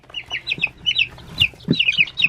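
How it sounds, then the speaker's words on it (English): A ten-day-old Cornish Cross meat chick peeps in rapid, high, repeated chirps, close and fairly loud, with brief pauses and a few soft low clucks mixed in. "Look at the size of this chicken."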